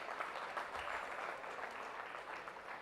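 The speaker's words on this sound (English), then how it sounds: "Please give him a huge round of applause." A conference hall audience at a national chartered accountants' conference gives a speaker a round of applause: sustained, even clapping from many hands, moderately distant and steady for the full few seconds, with no talking.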